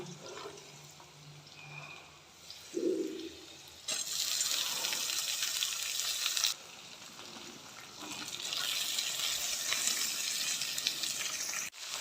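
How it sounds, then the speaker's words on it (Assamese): Chilies, onion and garlic fry in a pan with a steady broadband sizzle that swells loud in two long stretches, after quieter low background noise and a brief thump. "ইয়াতে মৰিচ পিঁয়াজ নহৰু এইবিলাক চব ভাজি ল'লোঁ"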